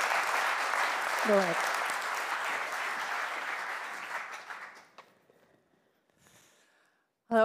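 Warm applause greets a speculative designer at a Dutch evening event on a future beyond growth, steady crowd clapping that thins out and dies away, with a brief spoken word mid-clip and a voice starting at the close.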